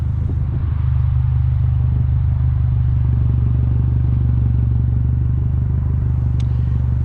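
A 2008 MINI Cooper S JCW idles loudly with a steady, deep exhaust rumble that holds constant throughout, close to the listener, with no talking.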